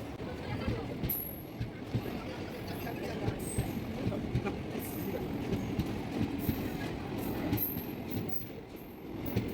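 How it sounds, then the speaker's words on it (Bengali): The 13187 Maa Tara Express pulls away from Prantik station with a steady rolling rumble, wheel clatter and occasional high squeals, while people talk nearby. "ট্রেন ছেড়ে দিল"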